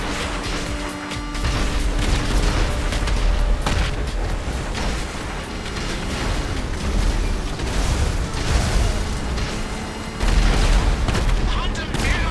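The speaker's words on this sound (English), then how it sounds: "Your rebuilt vehicles were equipped with missiles and guns. Give them a test." Vehicle-mounted missiles and guns fire in GTA Online: dense, continuous rapid gunfire and booming missile blasts over engine rumble, loud and close, with a brief lull around one second and a heavy burst near ten seconds.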